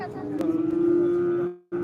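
A single loud, sustained cow moo close by at a busy cattle market, swelling steadily and then cutting off abruptly, with market murmur beneath it.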